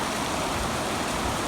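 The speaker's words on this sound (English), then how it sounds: "Well, it's raining hard now." Heavy rain pours down in a dense, even hiss that fills every moment without a break, loud and close.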